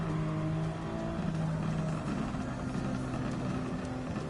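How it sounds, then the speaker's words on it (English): Simulated car engine in Gran Turismo 7 giving a low, steady rumble under acceleration, with faint popping backfires on the throttle, moderately quiet and continuous. "That's actually me backfiring every time I put my foot on the accelerator"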